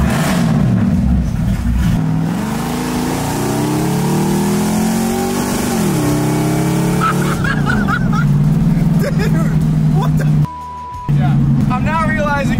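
A slammed, supercharged 1965 Ford Mustang engine, running slightly lean at high RPM, revs hard from close range, its pitch climbing and falling in repeated surges, with people talking in the car.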